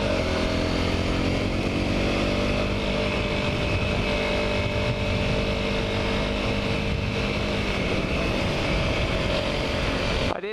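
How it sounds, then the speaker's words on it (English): Honda CRF250L four-stroke trail motorcycle ridden along a green lane, its engine loud and continuous with a raspy, two-stroke-like buzz and shifting revs, close to the rider. "but this has a very two-strokey sound to it, despite it being a four-stroke."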